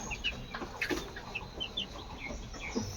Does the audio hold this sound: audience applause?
no